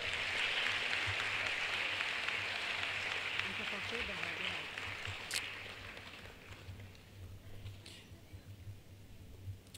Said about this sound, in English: A bigger round of applause for her.